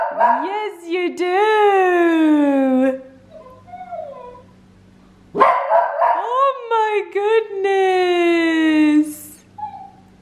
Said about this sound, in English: he just sits there and barks for different toys to be brought out